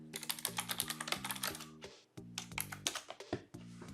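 Someone types a search on a computer keyboard: quick, close keystrokes in two bursts separated by a short pause, with a few louder key presses among the clicks.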